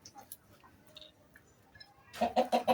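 Chickens cluck from close by in a short series of loud rhythmic calls after a quiet stretch of faint background sounds.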